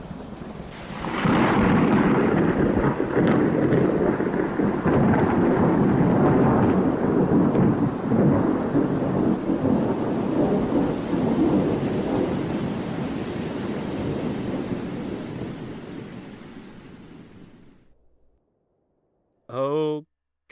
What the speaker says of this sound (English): I've never seen a storm just stop like that.